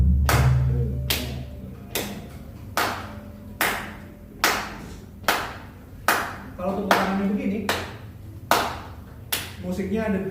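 Hand claps repeat in a steady rhythm at a music workshop, sharp close claps about one per second with a low hum beneath, and voices speaking between them.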